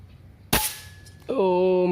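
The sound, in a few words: PCP air rifle shot, Phoenix brand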